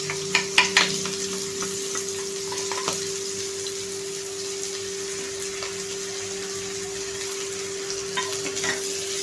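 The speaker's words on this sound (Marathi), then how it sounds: "कांदा लाईट ब्राऊन कलरवरती आपण फ्राय करून घेणार आहोत" Onion fries in a pan with oil after chilli and garlic, giving a continuous soft sizzle with a few clinks of stirring near the start and a faint steady hum beneath.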